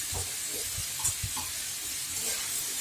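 Spices stirred into catfish curry vegetables in a pan: a steady hiss and sizzle with soft scraping strokes of a spatula, close and moderately quiet, no talking.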